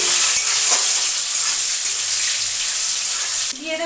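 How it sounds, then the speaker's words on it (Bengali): Boiled potatoes fry loudly in hot oil tempered with cumin seeds: a close, steady sizzle with some stirring, which cuts off sharply near the end. "আর এখানে জিরা ফোড়ন দিয়ে দিয়েছি, আলুগুলিকে একটুখানি ভেজে নিচ্ছি।"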